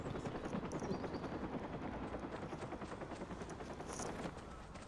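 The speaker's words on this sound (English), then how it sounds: "Get to the chopper." Helicopter in the video game Watch Dogs, its blades beating in a fast, even rhythm amid scattered gunfire bursts, the whole mix fairly faint and continuous.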